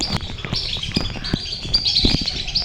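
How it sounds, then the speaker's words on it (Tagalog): Birds chirp repeatedly in quick, high tweets, fairly close, over a low background of outdoor noise; no one speaks. "Oo, ang ibon."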